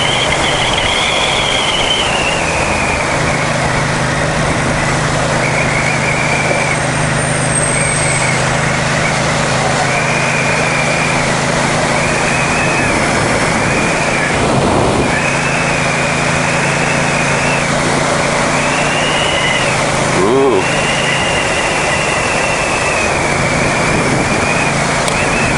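A 2021 Ducati XDiavel Dark engine drones steadily while riding near the Royal National Park, a loud continuous rumble with wind noise and small shifts in pitch over the ride.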